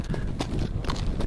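Horse hooves clip-clop along a trail near Tomales Bay, a steady muffled walking rhythm mixed with outdoor noise and people talking over it.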